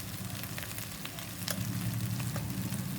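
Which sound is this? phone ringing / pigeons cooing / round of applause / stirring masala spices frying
stirring masala spices frying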